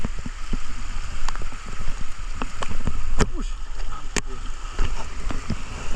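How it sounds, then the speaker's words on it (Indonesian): Heavy forest rain falls hard and close, a constant hissing wash broken by sharp splatters and water sloshing, with no voices heard. "Hujan lebat."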